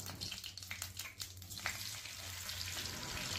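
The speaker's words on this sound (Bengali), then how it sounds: "সেই প্যানেতেই আমি আবার সামান্য একটু রিফাইন্ড অয়েল দিয়ে আবার পনিরগুলোকেও ভেজে নেব" Paneer cubes frying in a little refined oil in a pan, giving a steady close sizzle with a low hum underneath, occasional small crackles, and no talking.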